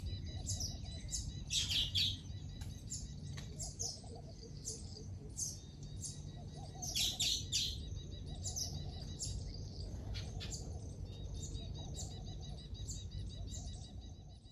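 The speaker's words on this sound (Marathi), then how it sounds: "सगळे छोटे छोटे असे सुगरण्यांचे पक्षी बसलेले" Small baya weaver birds chirp in scattered bursts of high, quick tweets over a low steady hum, some calls close, others farther off.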